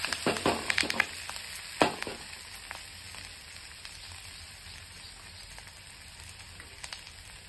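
Mirchi vada filling fries in a pan with turmeric added: a steady, close sizzle runs throughout, with several sharp stirring clicks and scrapes early on before it settles into even frying.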